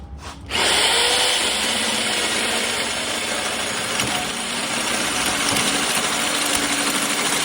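A power drill fitted with a hole saw notches a metal tube, starting abruptly and then whining loudly and continuously at close range.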